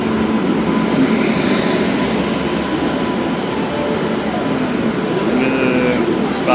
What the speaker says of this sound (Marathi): फायनली आपली गाडी आलेली आहे